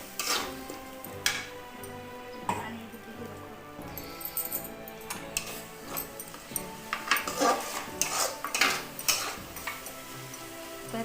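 Ginger garlic paste stirred in a pan while cooking a Puri-style fish and prawn vegetable mahura. A spoon taps and scrapes against the pan in irregular clinks over a faint sizzle, quiet and close.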